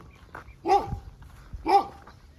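A dog barks twice, about a second apart, each bark a sharp, fairly close burst over quiet outdoor background.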